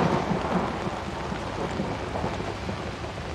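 Steady rain with rolling thunder in the horror game Outlast 2, a dense continuous hiss of downpour with a low rumble underneath, moderately quiet and without voices.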